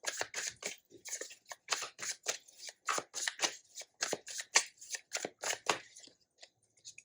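Tarot cards are shuffled and handled in a series of crisp, close riffling and flicking bursts with short pauses between them, no voices over the sound.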